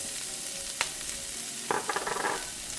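Carrots frying in olive oil for shrimp fried rice: a steady low sizzle in the pan, with a sharp scrape and then a burst of stirring clatter partway through, and no talking.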